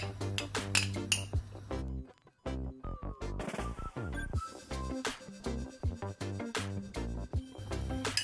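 A spoon clinks against a bowl while breaking up and mixing feta cheese, giving rapid sharp taps and scrapes with a short lull partway through, close and fairly clear.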